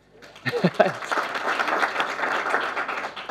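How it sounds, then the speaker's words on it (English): Audience applause at a talk or workshop, a short burst of many hands clapping that builds after a few spoken words and continues steadily. "Round of applause."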